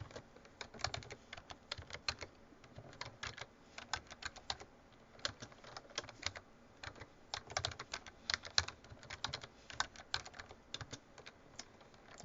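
Rapid, irregular keystrokes on a computer keyboard, clicking away continuously at a quiet level with short pauses between bursts, no speech.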